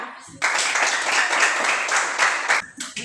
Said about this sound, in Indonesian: Anak-anak semua, kita berikan tepuk tangan sekali lagi untuk kita.